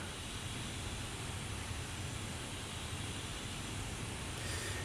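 A coaxial helicopter in Garry's Mod drones with a steady, loud, broadband engine and rotor roar, unchanging throughout with no talking.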